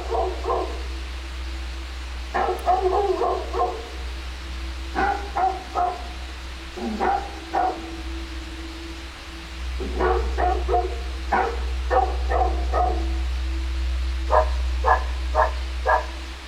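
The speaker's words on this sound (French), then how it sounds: "Ce sont toujours mes aboiements enregistrés." Recorded dog barks played back outdoors at a Scottish bridge, coming in short clustered bursts of several yaps with pauses between, over a steady low hum and light wind.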